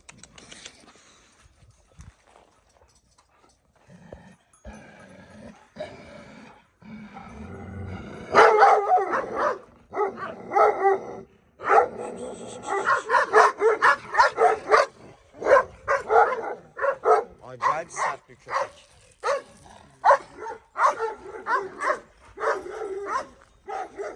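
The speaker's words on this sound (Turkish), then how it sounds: "Manyak dostum çok sert bir köpek." A fierce chained dog barks repeatedly and loudly at close range, bursts of sharp barks with whimpers and yips in between, while a person speaks now and then.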